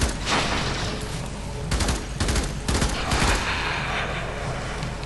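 Dense, loud gunfire from weapons in the sci-fi shooter Warframe, with rapid bursts and clustered volleys merging into continuous fusillade throughout the solo defense mission.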